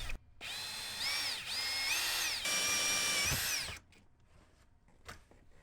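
A power drill cuts holes for a plumbing fill port in a ProMaster van build, whining loudly with pitch shifts for about three seconds before it cuts off, leaving quiet handling noises.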